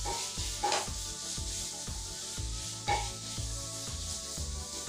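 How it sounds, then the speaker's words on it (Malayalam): Elephant foot yam stalks sautéed in a pan give a steady rubbing sizzle, with rhythmic scraping of a spatula against the pan and a couple of sharper clinks. "ഈ ചേനത്തണ്ട് കൂടി ചേർത്ത് നന്നായിട്ടൊന്ന് വഴറ്റിയെടുക്കണം."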